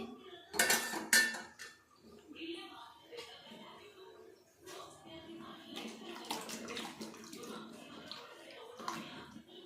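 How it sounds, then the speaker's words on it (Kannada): Water splashes and pours into a mixer jar holding leftover spice paste amid clinking of kitchenware and a few sharp clanks, with quiet talk in between. "ಅದೇ ಮಿಕ್ಸಿ ಜಾರ್ಗೆ ಸ್ವಲ್ಪ ನೀರು ಹಾಕಿ"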